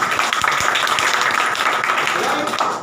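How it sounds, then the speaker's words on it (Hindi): Audience clapping during a training session, loud dense applause filling the whole moment with voices mixed in underneath. "इसके लिए भी तालियां होना चाहिए"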